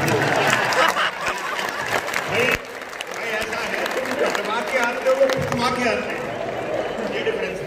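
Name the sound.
audience applause at a Hindi poetry gathering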